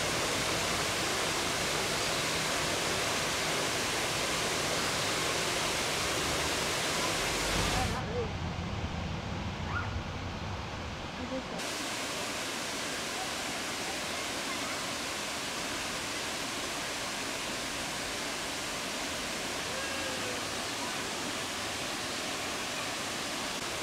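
A constant broadband roar of falling water from Cunningham Falls, Maryland's largest cascading waterfall with a 78-foot drop, fills the whole clip, steady and enveloping, with a brief muffled dip partway through.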